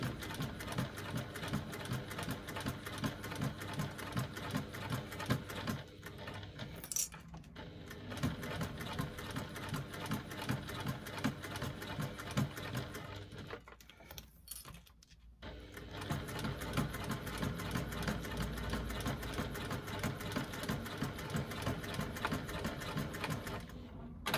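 A sewing machine stitches a bag strap with a quiet, steady mechanical whir, pausing briefly twice before running on again.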